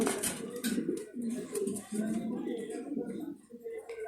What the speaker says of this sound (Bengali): এগুলো হচ্ছে আমেরিকান স্ট্যান্ডার্ড মডার্ন কবুতর